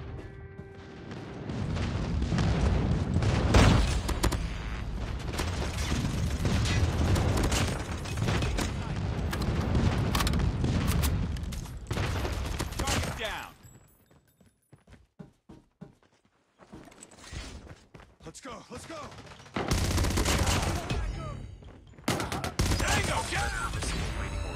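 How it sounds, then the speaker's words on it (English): In a multiplayer shooter video game, a predator missile and friendly airstrike set off heavy, dense explosions and gunfire, loud and continuous. A short quiet gap follows, then more blasts resume. "Predator missile inbound. Friendly airstrike incoming."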